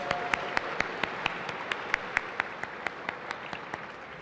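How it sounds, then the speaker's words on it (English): Audience applause for an honoree at a health auxiliary gathering, steady and moderately loud with distinct individual claps standing out through roughly four seconds of continuous clapping. "another round of applause"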